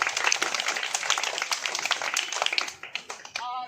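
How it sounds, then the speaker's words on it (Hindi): Audience applause from a group of children after a school speech, dense clapping for about two and a half seconds before it thins into a few scattered claps and a voice. "अपने लिए बहुत जोरदार तालियां बजा लो सभी लोग।"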